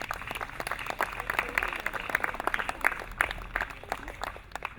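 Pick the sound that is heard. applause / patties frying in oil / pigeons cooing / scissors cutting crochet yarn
applause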